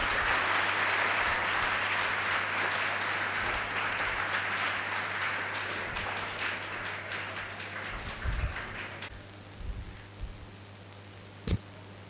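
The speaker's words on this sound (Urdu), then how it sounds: "تالی نہیں، یہ دینی مجلس ہے نا، تالی نہیں بجائیں گے" An audience at a religious gathering claps in a dense, sustained round of applause that gradually thins and fades out, leaving a few scattered claps and knocks at the end.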